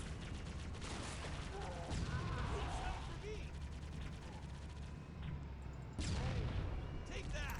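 A tank cannon fires in the video game Halo, with repeated booming blasts and crashing impacts over a dense rumbling game backdrop. A voice talks throughout.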